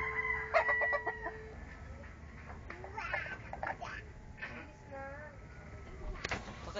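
Backyard chickens cluck and a rooster crows in short bursts at moderate distance, with a faint voice and outdoor noise mixed in.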